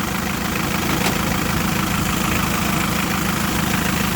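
Rebuilt engine of a Hyundai Grand Starex van idling steadily after an overhaul, a continuous close rumble with an even mechanical clatter and no pauses.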